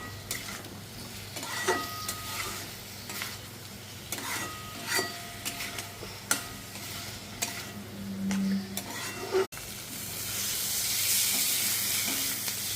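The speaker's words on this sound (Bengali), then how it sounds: "নুনটা অ্যাড করে এটা মিক্স করে নেবো ভালো করে।" Eggplant cooking with salt in a hot pan sizzles steadily while a spatula scrapes and stirs it in repeated strokes, close up; after a brief cut the frying grows into a louder, hissing sizzle.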